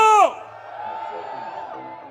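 A carnival samba school crowd gives a loud, brief whooping yell that quickly fades into a sustained, distant roar of crowd noise in an outdoor parade venue, with no talking.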